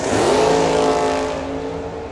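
Drag race cars, a 1964 Corvette and a red 1984 Mustang, roar loudly at the track, engines revving hard then fading slightly as they pull away, with no voices.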